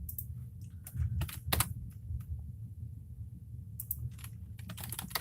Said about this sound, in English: I'm going to actually type the word news and then click on news in duckduckgo.com